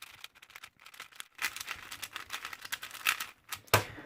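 A 5x5 twisty puzzle cube is scrambled by hand: quick bursts of clicking and clattering plastic turns, close and fairly quiet, in irregular rapid runs with brief pauses.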